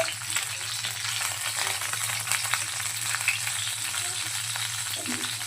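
Eggplant pieces fry in hot oil in a pan, a dense, continuous close sizzle with fine crackling that holds steady from start to finish.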